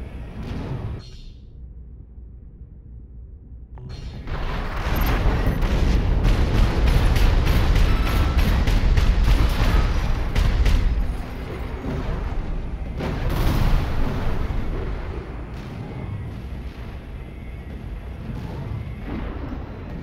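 Rapid-fire weapons in Armored Core VI unleash a dense, sustained barrage of booming shots and explosions after a brief quiet opening, swelling loud and heavy before easing to a steadier rumble.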